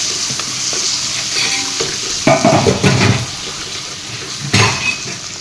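Chicken stir-fried in a pan with ginger and garlic paste, loud close sizzling broken by bursts of stirring and clattering cookware, no voices.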